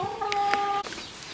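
A hen clucks and squawks a few times up close in a short burst, with a brief rustle at the end.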